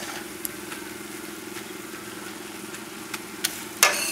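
Ground beef fries with herbs and spices in a hot pan, a soft steady sizzle with a few faint clicks and a sharper scrape or stir toward the end.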